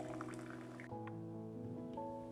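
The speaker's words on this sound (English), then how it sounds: "heat heavy cream and glucose syrup almost to the boiling point before adding soaked gelatin and pouring it over the white chocolate" Hot heavy cream with glucose syrup and dissolved gelatin poured over chopped white chocolate for a carrot cake cream, a steady close liquid stream with soft dripping and splashing, alone without talk.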